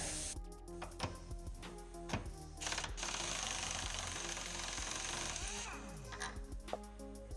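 An impact wrench hammers on the top strut bolt of a 1987 Mustang GT, firing in short rattling bursts and then a long sustained run, loud and close.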